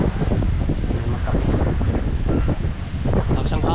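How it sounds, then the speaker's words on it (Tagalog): Wind buffeting the microphone outdoors, loud low rumbling gusts that surge and roll continuously, with faint speech-like sounds partly buried beneath. "Ang hangin."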